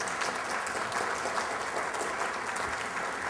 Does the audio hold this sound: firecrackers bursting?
no